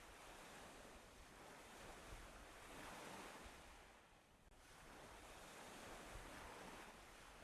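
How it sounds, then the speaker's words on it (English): Ocean waves wash in soft, rolling surges as ambience in a Godot video game, faint and quiet with a windy, airy hiss and a brief dip midway. "I need to up the wave ambiance."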